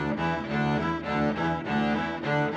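Bowed string instrument playing slurred notes on a slow bow in a technique drill, smooth connected tones swelling and easing in gentle bow strokes, heard alone without talk.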